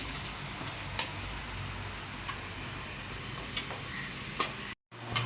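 Onions and green chillies frying in oil, a steady, fairly quiet hiss of sizzling with a few soft ticks and pops, and a brief dropout near the end.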